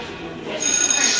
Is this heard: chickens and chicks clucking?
no